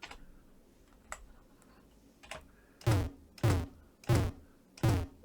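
Quiet ticks at first, then four loud, evenly spaced buzzy electronic blips from an AY-3-8910 sound chip, each a short low burst, a retro game effect for bumping into a ghost.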